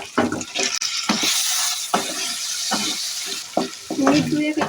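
Diced potatoes and Gobindobhog rice fry in hot oil for Bengali muri ghonto, a steady close sizzle broken by irregular scraping stirs of a spoon against the pan.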